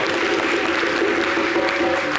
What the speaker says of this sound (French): Est-ce qu'on peut applaudir pour lui, s'il vous plaît?